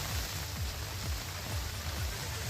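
Monsoon rain falling in Mathura, a steady, even hiss of downpour without a break, with a faint low rumble underneath.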